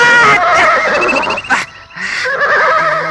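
A horse neighs loudly and close by in two long, wavering whinnies separated by a brief pause, while being urged to walk on a road under a heavy load.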